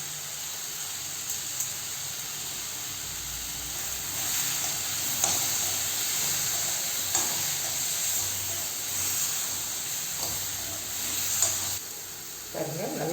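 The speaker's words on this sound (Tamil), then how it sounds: "மேல்தோல் சுருங்கி வர்ற வரைக்கும் நம்ம வறுக்கணுங்க." Tomato and garlic fry in a pan with a steady, close hissing sizzle, broken by occasional soft scraping clicks of stirring.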